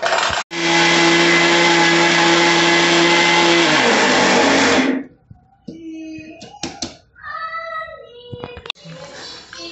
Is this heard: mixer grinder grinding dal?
yes